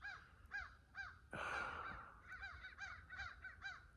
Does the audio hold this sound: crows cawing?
yes